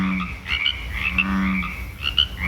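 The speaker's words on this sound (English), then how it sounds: "she did learn that it is actually a bullfrog" A bullfrog croaks in deep, repeated throaty calls at a Pacific Northwest campground, the pulses coming in quick succession at moderate loudness with no voices over them.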